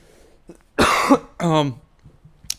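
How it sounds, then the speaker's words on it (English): A few harsh coughs, one sharp and one longer and raspy, followed by a brief throat-clearing sound, close and otherwise quiet. "Apologies for the coughing."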